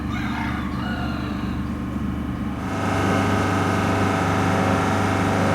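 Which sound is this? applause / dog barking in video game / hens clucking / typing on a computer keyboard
hens clucking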